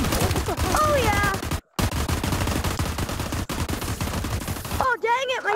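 Rapid gunfire from a VR shooter game crackles loudly and almost continuously, with a brief gap partway through, while a player's voice talks over it.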